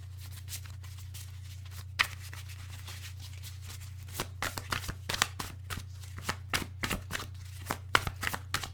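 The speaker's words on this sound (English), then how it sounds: "3 more shuffles." Tarot cards being shuffled in quick, repeated riffling bursts, close up, over a steady low electrical hum.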